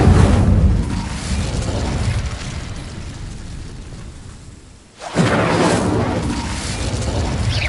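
Incendio fire spell in Hogwarts Legacy, a loud rushing burst of flame that roars and slowly fades, then a second whooshing blast flares up and carries on steadily.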